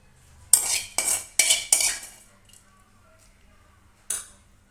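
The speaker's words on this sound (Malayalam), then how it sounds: "ഇനി ഇതെല്ലാം കൂടെ നന്നായി ഒന്ന് മിക്സ് ചെയ്ത് കൊടുക്കാം." A spoon mixes ginger into curd in a bowl, giving four close, sharp clinking scrapes in quick succession, then quiet, then one more clink.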